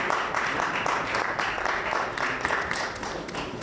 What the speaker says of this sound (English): Keep the applause down, please.